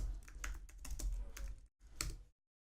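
Computer keyboard typing up close, a short burst of quiet clicks ending in a firmer return keypress, then silence.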